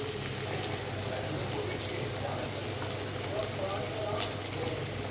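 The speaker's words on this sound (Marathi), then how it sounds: "आता आपण बारीक चिरलेला टोमॅटो टाकूया. तो पण चांगला मऊ शिजेपर्यंत परतून घेऊया." Chopped tomato frying in a pan until soft, cooked for a veg Maggi masala: a steady, close, broadband sizzle runs through without a break, with a low background hum beneath it.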